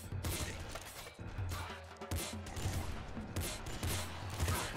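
Chaotic combat in the video game Nuclear Throne: a grenade explosion amid dense bursts of gunfire, loud and continuous with overlapping blasts and impacts throughout.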